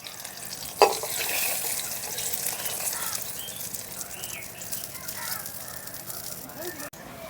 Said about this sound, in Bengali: আর একইভাবে সবগুলো বেগুন ভেজে নেব